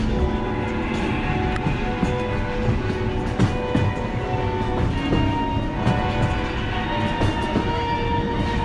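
The Disneyland Paris Railroad train rolls along its track with a continuous rumble and rhythmic wheel clicks, steady and moderately loud from on board, with no voices.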